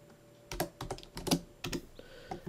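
Rapid clusters of clicky keystrokes on a computer keyboard with short pauses between bursts, typed while working in Windows 7 settings; close and fairly loud with no talking.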